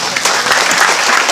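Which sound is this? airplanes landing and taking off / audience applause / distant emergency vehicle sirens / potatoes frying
audience applause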